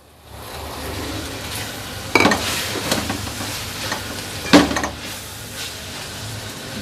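Vegetables stir-fry in a pan with chili sauce and soy sauce, a soft sizzle under a few sharp clinks and scrapes of a utensil against the pan.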